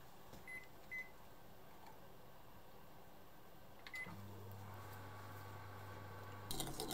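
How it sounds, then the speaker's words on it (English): A few faint beeps, then a microwave oven heating a sugar mixture starts up with a steady low electrical hum that runs for a few seconds before a clunk. "heat in the microwave until the sugar dissolved"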